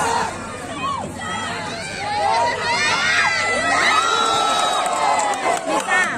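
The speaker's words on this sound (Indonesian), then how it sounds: "Ini suara penonton." Spectators at a volleyball match cheer and shout, children's high voices prominent amid a loud, excited crowd. The noise swells in the middle and stays lively to the end, with scattered yells and chatter rising over the general roar.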